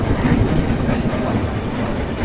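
The player's train in Choo Choo Charles rumbles along loudly and up close, a dense, steady rolling roar with clattering wheel noise and no speech.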